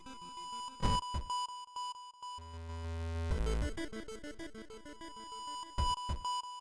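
A phone call rings in the World of Horror video game as a series of electronic beeping tones, with sharp bursts near the start and end and a lower buzzing drone in between, heard alone with no voices.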